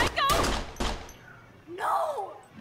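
Gunshots ring out in the video game Life Is Strange, with two sharp, loud cracks close together at the start. Quieter game sounds and a groaning voice follow.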